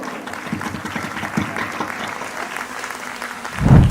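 Audience applause fills a motivational RCM business seminar as the mic is handed to mentor Rakesh Yadav: a steady, dense crackle of many clapping hands, swelling slightly louder near the end.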